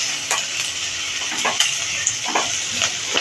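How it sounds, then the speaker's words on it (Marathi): Onion and eggplant sauté in a pot for a one-pot dal and rice dish, a soft steady sizzle broken by a spoon scraping and stirring at irregular moments, close by and without speech. "अगदी कांदा खूपच परतून घ्यायचा नाही आहे, बेताचाच परतायचा आहे."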